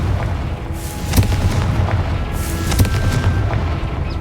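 Confringo fire spell cast in the Hogwarts Legacy video game, a rumbling series of booming blasts with two sharp cracking hits about a second and a half apart over a dense low roar, with no talking.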